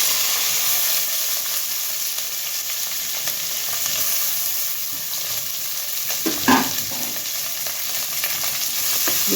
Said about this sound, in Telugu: ఇందులో పచ్చిమిర్చి, ఉల్లిపాయలు, వెల్లుల్లిపాయలు ఈ మూడు వేసుకొని వేయించుకుందాం.